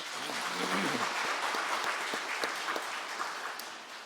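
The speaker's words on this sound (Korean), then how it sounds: "자, 한 번 더 박수합니다." A church congregation at a New Year intensive prayer meeting gives a dense, steady round of applause that fades slightly toward the end, with a brief voice near the start.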